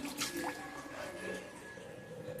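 Water poured from a small container onto potted tulsi plants in a home garden: soft, faint trickling and dripping into soil, brief splashes near the start, otherwise quiet.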